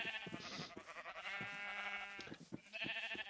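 Sheep in a video game farm holding 32 sheep, two of each color, bleat repeatedly: several wavering, nasal calls overlap and follow one another closely, fairly near and clear with no talk.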